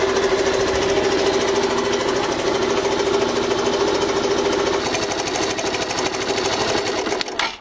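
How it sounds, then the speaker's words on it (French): Suzuki DR125 motorcycle engine running steadily just after starting on a new battery, a loud, fast, even single-cylinder chatter close by that lasts throughout and dips briefly at the very end. "au moins elle démarre avec la nouvelle batterie"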